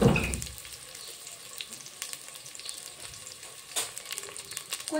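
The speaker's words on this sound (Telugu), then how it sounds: "ఫస్ట్ ఆనియన్స్, పచ్చిమిర్చి వేసాను. కొంచెం వాటిని ఫ్రై చేయనిద్దాం ఫస్ట్." Onions and green chillies fry in a pan with a steady, faint sizzle and a few stirring scrapes, a louder clatter at the start as they go into the hot oil.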